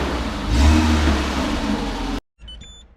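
A car engine running on milk revs up loudly as the car pulls away, holding a rough mid-pitched drone before cutting off abruptly, followed by faint background noise.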